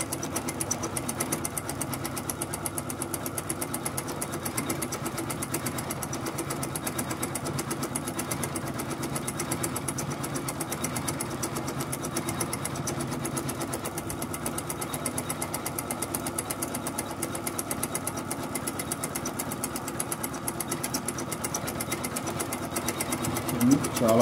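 A 450e sewing machine stitching cloth runs continuously for over twenty seconds with a fast, even mechanical chatter and steady motor hum, close and moderately loud, with no pauses.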